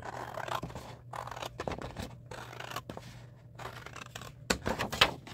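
Scissors snipping through paper for a handmade 6x6 mini album, close and fairly quiet, a series of short irregular cuts with light paper rustling between them and a sharper snip near the end.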